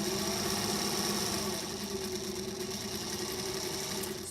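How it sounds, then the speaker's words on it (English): A sewing machine runs steadily at close range, stitching quarter-inch seams along a center line on half square triangle quilt pieces, a continuous whirring hum that barely varies from start to finish. "I have drawn a line down the center, and I'm sewing 1/4 inch seam allowances on"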